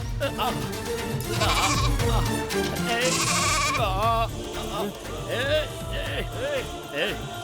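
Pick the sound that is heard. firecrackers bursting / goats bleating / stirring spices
goats bleating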